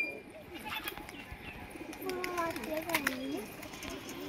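Pigeons kept in a Bangladeshi loft for sale, cooing in low wavering calls through the second half, mixed with scattered chirps and nearby human voices.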